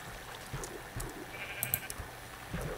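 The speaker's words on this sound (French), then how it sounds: "Un mouton, non. Viens pas brouter ici, sérieux là, dégage." A sheep in Minecraft gives a few faint, short bleats against a busy game background with soft footsteps and small clicks.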